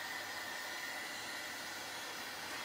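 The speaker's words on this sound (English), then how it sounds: "This is not a hair dryer, this is heat gun for embossing" An embossing heat gun blows steadily, a continuous broadband airy whoosh with a faint motor hum, close and even throughout with no talk.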